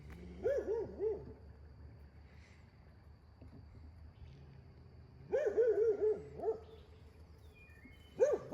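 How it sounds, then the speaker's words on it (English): Alfred, a shelter dog, lets out short yodeling howl-like barks in two or three bursts, moderately close and quiet overall, with a low hum between them. "Alfred's a good dog."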